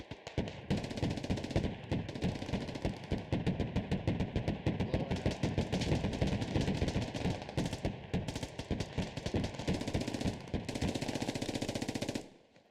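Sustained automatic gunfire from a competitive Squad match, dense bursts and rapid shots rattling continuously and loudly for the whole stretch before cutting off abruptly at the end.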